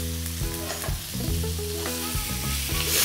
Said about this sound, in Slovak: Tak, ryba sa nám opeká.